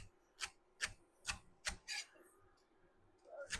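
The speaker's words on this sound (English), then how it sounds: "I'm just going to cut them in half once, lengthwise" Celery being cut lengthwise with a knife on a board, five or six distinct close chopping strokes spaced about half a second apart, then a quieter pause and one softer cut at the end.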